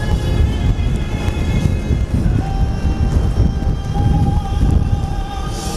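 Strong wind blows hard outside a football stadium, a loud continuous roar buffeting the microphone with a heavy low rumble from start to finish and no talking.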